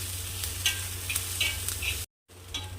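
Halved green chillies fry in a pan with a quiet, continuous sizzle and a few light stirring scrapes, then the sound cuts out briefly near the end.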